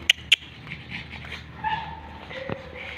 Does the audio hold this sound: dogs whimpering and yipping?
yes